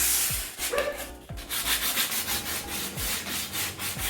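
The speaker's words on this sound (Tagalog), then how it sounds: "Siguro lihain kong konti" An old wooden table is sanded by hand in rhythmic back-and-forth strokes, a close, gritty rubbing that repeats steadily throughout.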